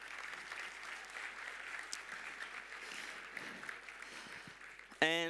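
Applause for competing university teams at a programming contest opening ceremony, a continuous, even wash of hall clapping, fairly soft and distant, ending as a voice cuts in.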